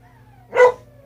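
A single short, sharp bark from a puppy rings out close by in a quiet room.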